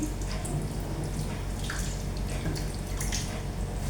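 Water pours steadily from a tap into a pot for cooking beans, a close, continuous splashing hiss with no pause.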